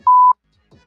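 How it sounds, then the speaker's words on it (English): A single short electronic beep, a pure steady tone lasting about a quarter second, followed by a faint murmur. "Can we give him the dummy buzzer real quick?"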